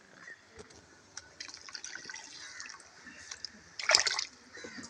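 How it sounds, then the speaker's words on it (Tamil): Water poured into a simmering pot of Kumbakonam kadappa curry, a short splashing pour near the end after quiet cooking sounds, close and moderately loud. "தண்ணி கொஞ்சம் ஊற்றிக்கலாம்."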